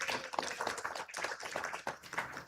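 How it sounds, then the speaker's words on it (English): Clapping at an awards conclave for women icons arrives as a short, fairly faint patter of hands, uneven and sparse rather than full applause, without any voices. "Can you all give them a big round of applause,"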